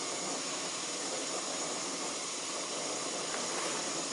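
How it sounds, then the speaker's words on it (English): Steady, broadband hissing roar of a camping stove burner with water bubbling at a rolling boil, constant and close throughout. "3 minutes and we are now boiling. Yep, that's boiling water."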